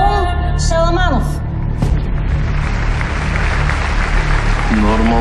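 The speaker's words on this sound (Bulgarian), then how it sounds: "Аплодисменти за Наум Шаламанов." Applause for a weightlifting champion swells beneath a film trailer's dramatic music and tones, a crowd's clapping rising into a dense, loud wash partway through and continuing under the score.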